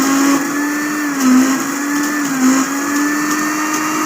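A kitchen blender grinds green chilli, garlic cloves and cumin into a paste, a loud, steady motor whine that sags and recovers twice under load before cutting off abruptly at the end.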